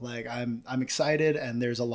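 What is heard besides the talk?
No distinct noise like a dog, phone or traffic.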